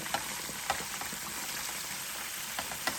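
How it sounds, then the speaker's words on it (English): Bacon-wrapped catfish with jalapeños sizzles and crackles in hot grease, a steady close frying hiss with a few sharper pops spread through it, no talking. "You know, Mr. Belle, going to put this in this hot grease."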